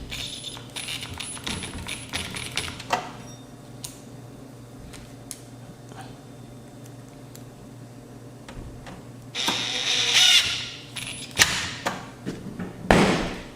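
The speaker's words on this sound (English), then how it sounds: "Replace a couple screws." Small screws are replaced in a Sony STR-K7000 AV receiver during a teardown, heard as scattered metallic ticks, clicks and taps of screwdriver and parts on the chassis, with louder clattering handling bursts near the end, close and without speech.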